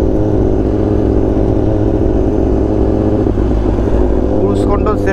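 A Kawasaki ZX10R with an aftermarket exhaust cruising in third gear at about 50, a loud, steady, deep engine drone heard from on board with wind rush, while someone talks over it.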